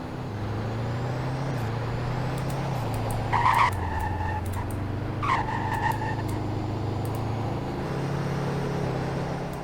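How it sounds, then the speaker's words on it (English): Steady engine hum of a 2017 Wolfsburg Tornado car driving in a video game, with shifting pitch and a couple of brief skid-like squeals in the middle, no talking. "And here's what it sounds like to drive."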